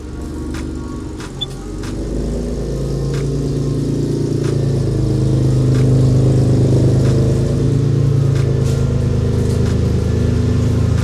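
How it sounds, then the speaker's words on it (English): Steady engine drone from a BMW E36 while driving, a low continuous exhaust note that swells gradually and stays loud, with no talking over it. "the horrible exhaust note that we have"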